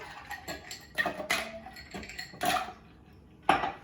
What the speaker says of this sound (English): now we're just going to take some ice, which I have over here. Fill up our shaker.